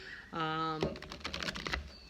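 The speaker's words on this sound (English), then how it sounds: "We'll just give the cards a bit of a shuffle." A deck of cards being shuffled: a quick flurry of crisp, clicking flicks that follows a short hummed voice tone.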